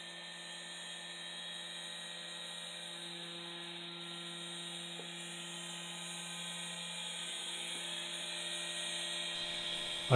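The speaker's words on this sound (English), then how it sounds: "I cut the covers out on the CNC." A CNC machine with a 0.3 mm engraving cutter mills covers from 0.5 mm brass sheet, giving a steady high-pitched spindle whine with a faint rising hiss that stays constant throughout, alone and close.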